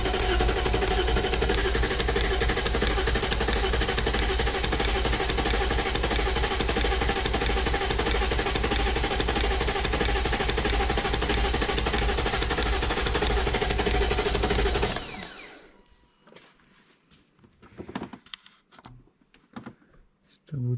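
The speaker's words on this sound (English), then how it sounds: "that little clunking noise was oil pressure" BMW E38 740i engine cranking and running with a loud, steady rumbling clatter that cuts off abruptly, leaving quiet scattered knocks and handling noises.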